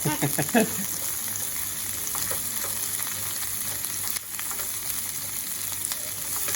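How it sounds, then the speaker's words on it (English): Onions and capsicum fry in a pan with a loud, steady sizzle that holds for the whole stretch. A few clattering stirs come at the start. "Onions just starting to brown up nicely on that."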